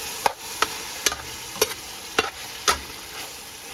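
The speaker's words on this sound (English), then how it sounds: "it's cooking and it's frying up" Chicken and rice biryani fries in a pot with a steady sizzle, while a spoon stirs and scrapes the pot in six or seven sharp knocks at fairly regular intervals, close and clear, with no talking.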